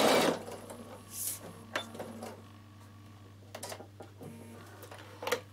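A Bernina sewing machine stitches a dart in dress fabric, giving short, intermittent mechanical clicks and whirs over a low steady hum, close and fairly quiet, with no talk.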